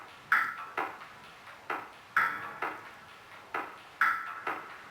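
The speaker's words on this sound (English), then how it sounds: "Brought those Bit Crush drums back in, so this is what they sound like" Bit-crushed drums soloed in a song outro, repeating a steady loop of crunchy, ringing metallic hits with sharp attacks and short decays, about two per second, fairly quiet and alone.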